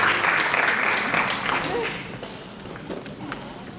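At a film festival awards ceremony, an audience claps as a guest is called to the stage, with a dense burst early that eases off, and footsteps and a few voices mixed in.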